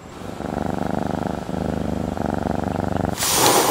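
A cat purrs right up close in a steady, rhythmic rumble that pulses with each breath, ending in a sudden burst of rustling noise.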